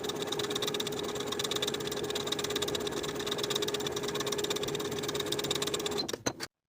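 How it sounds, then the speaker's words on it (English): A sewing machine steadily understitches a pant pocket to its seam allowance with a fast, even, continuous hum for about six seconds, then slows and stops abruptly. "we're going to understitch, sewing the pocket to the seam allowance underneath with about 1/8 inch seam allowance"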